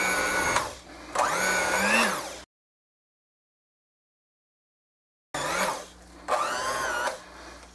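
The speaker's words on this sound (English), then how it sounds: "hopefully you've heard the change in pitch of the machine, as it's really having to work" An electric mixer's beaters strain through thick paper clay, the motor whining in loud bursts and its pitch rising and wavering under the load. Two short runs are split by a silent gap.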